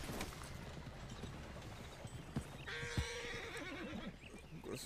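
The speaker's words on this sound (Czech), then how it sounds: "Srazil jsi mi koně." Horse hooves clip-clop in a video game, with a horse's neigh rising in the middle, all set against dense game noise and bursts of activity.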